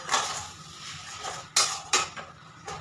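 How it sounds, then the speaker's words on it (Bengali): A utensil stirs eggs in a pan while cooking a Bengali home curry, with close metallic scrapes and clinks, a few sharper knocks standing out against a steady sizzling background, no talk. "ডিমটা দিয়ে ভালো করে নাড়াচাড়া করে দিতে হবে"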